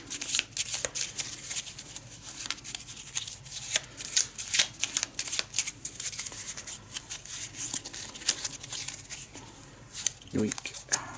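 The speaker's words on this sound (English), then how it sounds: "Give it a quick shuffle." A deck of spell cards from the Arkham Horror board game is shuffled by hand in repeated quick riffles and flicks, a crisp papery rattle that runs continuously and close.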